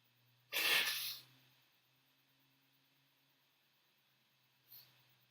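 A single sharp, loud human sneeze bursts out near the mic, followed by a quiet pause and a faint short sniff or breath a few seconds later.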